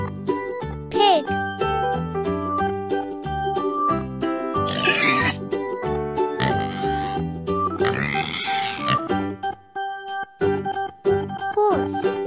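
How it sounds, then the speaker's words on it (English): Pig grunting and oinking in a few short bursts over bright, cheerful children's music for a farm-animal lesson. "Pig."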